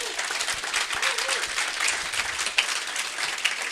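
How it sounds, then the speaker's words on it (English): An audience at a Colorado forum for Republican Secretary of State candidates gives the moderator a round of applause, a steady wash of many hands clapping for several seconds. "let's give Chris a round of applause as well"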